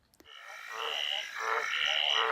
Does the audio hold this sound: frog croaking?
yes